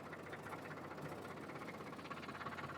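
A tractor engine runs steadily while the machine backs up in an open field, a continuous rumbling drone with a faint rhythmic knock and no talking.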